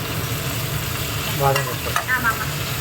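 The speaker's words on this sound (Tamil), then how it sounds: "ஒரே ஒரு தக்காளி போட்டுக்கலாம் இந்த சமயத்தில் உப்பு போட்டுக்கலாம் தக்காளி நல்லா வதங்கிட்டு" Tomatoes sizzle steadily in a hot pan, with a few scraping stirs of a spoon partway through, close and unaccompanied by talk.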